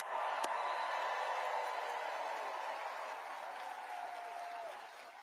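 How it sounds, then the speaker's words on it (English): Steady applause from a political rally crowd in Reno, honoring first responders, a dense sustained clapping wash that holds evenly for several seconds and slowly tapers at the end, with no speech over it. "let's take a moment and give a grateful round of applause for our"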